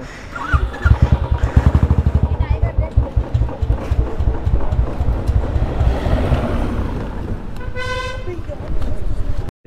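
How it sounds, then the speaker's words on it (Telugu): Motorcycle ride through congested narrow lanes with heavy vehicles on the way from Hyderabad to Ladakh, engine putting steadily up close while horns toot near the end, with someone talking over the riding noise. "ఇప్పుడే నేను మా ఫ్రెండ్ బైక్ తీసుకున్నాను, నడపమంటే నడుపుతున్నాను"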